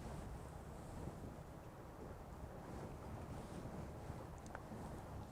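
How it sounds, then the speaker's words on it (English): A distant motor boat engine in a Venice canal, a faint low rumble blended with wind and water noise, steady and quiet, heard from another boat gliding almost silently. "What you are hearing is another boat, another engine, and not this one."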